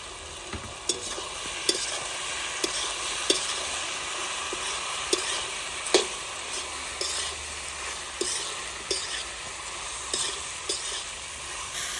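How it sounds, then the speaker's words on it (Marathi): Penne pasta being stirred and sautéed in fried spices in a pan on a wood-fired stove, with a steady sizzle under sharp scattered scrapes and taps of the spatula, close and alone with no talking. "तळलेल्या मसाल्यांमध्ये पास्ता टाकल्याच्या नंतर दोन एक मिनटं आपल्याला चांगला परतून घ्यायचा आहे"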